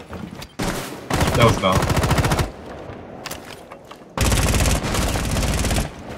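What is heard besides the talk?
gunfire in the video game Rainbow Six Siege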